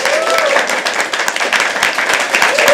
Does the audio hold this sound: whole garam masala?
no